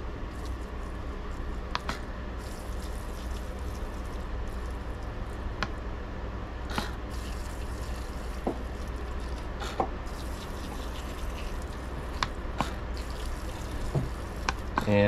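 Diluted liquid fertilizer is poured to soak an onion planting, a soft continuous trickle and splash of water with small scattered drips and squishes, quiet and steady with no talk throughout.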